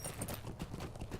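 Horse hooves clip-clopping in the online game Lord of the Rings Online, a quick regular run of soft hoof beats at moderate distance, fairly quiet and unbroken.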